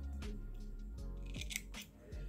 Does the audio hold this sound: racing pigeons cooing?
no